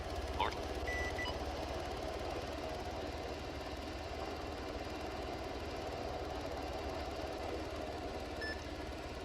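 UH-60 helicopter engines spool at a parking area in the video game ArmA III, a steady low mechanical drone held throughout at moderate level, with radio-style talk over it.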